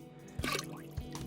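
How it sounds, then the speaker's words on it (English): Water from a bowl of dishwater drips and splashes into a bucket at an off-grid tiny house, two brief close splashes with light trickling between them, faint and without talk. "And then we collect all this water in here in our bucket"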